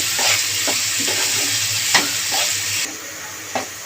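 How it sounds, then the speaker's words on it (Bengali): Onions fry in a pan with a little salt until reddish, giving a continuous loud sizzle broken by several stirring scrapes. The hiss drops slightly toward the end. "পেঁয়াজটা লাল লাল করে ভাজা হয়ে গেছে"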